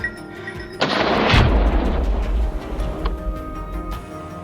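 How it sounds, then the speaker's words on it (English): A loud gunshot from a wild boar hunt booms and then echoes across the mountains, with a deep rumbling reverberation that lingers and slowly dies away over several seconds. "After the echo of gunfire spread across the mountains"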